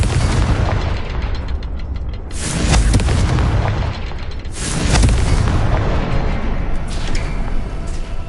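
Blasting curse explosions in Hogwarts Legacy, a Harry Potter game: two loud, deep booming blasts about two seconds apart, each with a rumbling tail, over a busy low background.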